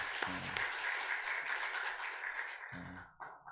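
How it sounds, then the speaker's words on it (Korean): Church congregation applauding after a call to thank God, a dense spread of clapping filling the room, with a brief voice and organ-like tones breaking in near the start and again toward the end. "지난 1년 동안 우리 예배를 받아주신 하나님께 감사의 박수를 한번 올려드리면 좋겠습니다"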